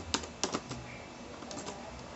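Keys clack on a computer keyboard while a column is added to a purchase report, a few sharp taps and short quiet runs of typing, close up and faint.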